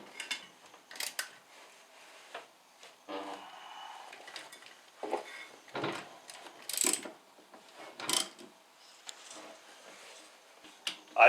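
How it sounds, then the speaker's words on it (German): Metallic ratcheting and clinking as caliper nuts on a Porsche 944 brake with floating-frame calipers are tightened in a star pattern, several short bursts spaced through the clip with quiet gaps between, close to the mic. "Dann ziehen wir die wieder im üblichen Sternmuster, wie bei den Radschrauben auch, fest."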